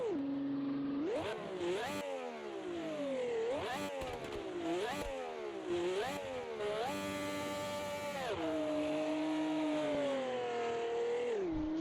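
A V12 Ferrari Formula One car from 1971 on the Nordschleife in a VR racing game revs hard and loud, its shrill engine note climbing repeatedly and dropping at each upshift, then holding a high steady wail.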